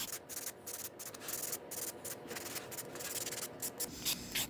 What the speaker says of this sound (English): you go flat on the top, and then you kind of lean your buffer down on the sides, just shaping